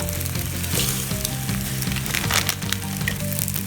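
Glass noodles tossed into egg already frying in a hot pan, a steady loud sizzle with occasional crackles and faint scraping, continuous throughout.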